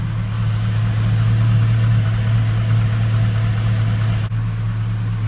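Chevrolet Silverado 5.3 V8 at operating temperature after an oil flush, idling with a steady low hum and faint ticking from the lifters, running evenly with a brief dip near the end.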